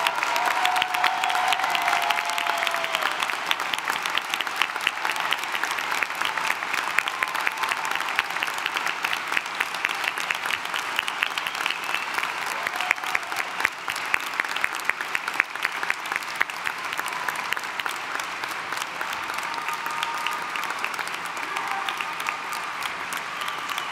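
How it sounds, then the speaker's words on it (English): Sustained, full-hall applause at the ESU winter 2017 commencement honoring standing military personnel and veterans. Dense clapping continues evenly for over twenty seconds, with scattered cheers in the crowd. "let your applause demonstrate how thankful we are for their service"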